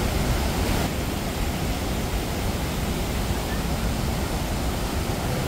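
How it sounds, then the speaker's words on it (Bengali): The Usri waterfall roars over rocks in the monsoon, a dense, constant, loud wash of falling water that fills the whole scene without pause. "প্রবল শব্দে ঝরে পড়ছে উসরি।"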